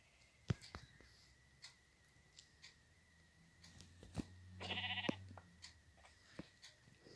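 Minecraft sheep bleat in a short wavering cry over a quiet game soundscape, with scattered clicks and footsteps before and after the call.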